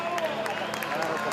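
A crowd applauds continuously at a moderate distance as people are pulled from a burning building, while a news voice talks over the clapping.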